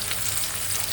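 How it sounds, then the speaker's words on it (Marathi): Ingredients hit hot oil and set off a dense, even sizzle that stays close and steady for about a second, with no voices. "तेल गरम झाल्याच्या नंतर तुम्हाला हे ह्याच्यामध्ये ॲड करायचं आहे."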